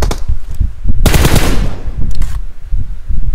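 Loud, close machine gun fire in a battle royale game, dense rapid bursts rattling almost continuously with short gaps between volleys.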